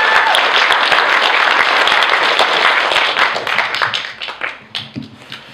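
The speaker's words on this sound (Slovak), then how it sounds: "Potlesk ešte jeden veľký," Applause from an audience at a slam poetry event, loud and dense at first, then thinning into scattered claps that fade toward the end.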